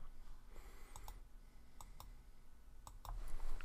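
A computer mouse gives a handful of crisp, close clicks in small pairs and singles over a quiet room hum, with no speech.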